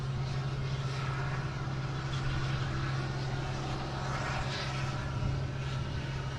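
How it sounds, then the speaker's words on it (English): A JetBlue Airbus A321 jet arriving at Boston Logan from San Francisco produces a continuous distant engine rumble with a steady low hum, even in level and unbroken from start to finish. "we have a JetBlue coming in from San Francisco, an A321, flight 1734"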